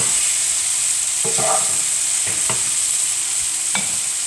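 Beef stew curry frying in a pan, a constant bright sizzle close up with a few soft scrapes and taps of a spoon stirring, no voices.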